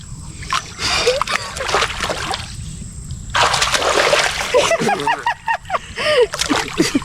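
Someone diving and splashing in a village pond, with bursts of water churning and slapping in uneven waves, broken by short pauses, as voices call and chatter close by.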